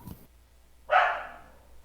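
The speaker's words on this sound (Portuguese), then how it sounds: "meus cachorros estão fazendo bastante barulho hoje" A dog gives a single sharp bark at moderate distance, clear against a quiet indoor background, preceded by a faint brief knock.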